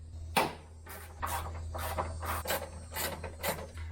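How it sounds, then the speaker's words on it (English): Ratchet wrench clicking as it breaks loose 10mm bolts holding the ECU and brackets in a turbocharged Toyota Corolla, heard as repeated short bursts of ratcheting roughly every half second over a low steady hum. "I believe there's a 10mm down here and then two 10mm over here. We should be able to break those loose"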